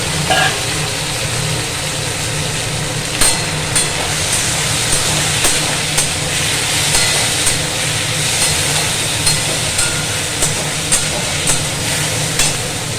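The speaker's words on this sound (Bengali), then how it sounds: "তেল গরম হয়ে গেছে, একটু ভাজবো এটাকে" Vegetables frying in hot oil for a Bengali home-cooked chorchori with Malabar spinach stems, a loud, steady broadband sizzle and hiss running throughout, with faint clicks and small bursts but no talking.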